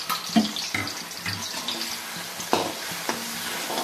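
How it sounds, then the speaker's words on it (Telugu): Eggplant curry masala frying in a pan, with steady sizzling and sharp clinks and scrapes of stirring, close and fairly quiet. "ఇలాగా పచ్చివాసన పోయే వరకు ఇది ఇలాగా ఫ్రై అవ్వాలి."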